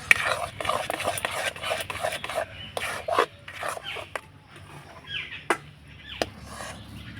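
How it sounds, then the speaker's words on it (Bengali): A spoon scrapes and stirs semolina repeatedly against a kadai over medium heat as it thickens into dough, quick, uneven strokes, close by, with a few sharper clinks. "এবার মিডিয়াম আঁচে অনবরত এইভাবে করে নাড়াচাড়ানো করব"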